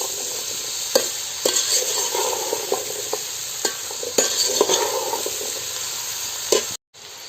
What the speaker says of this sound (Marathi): गरे फोडणी घातल्यावर काय व्यवस्थित परतून घ्यायचे